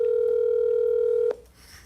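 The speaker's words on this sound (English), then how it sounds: "Let's see if he answers the phone." A steady telephone dial tone hums for over a second during a call, then cuts off abruptly with a click as the line connects, leaving quiet hiss.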